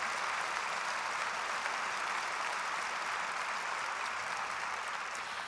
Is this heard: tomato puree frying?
no